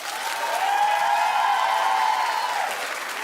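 Studio audience applause on a daytime talk show, a steady dense wash of clapping held at even loudness for a few seconds, with a faint whoop or cheer riding over it.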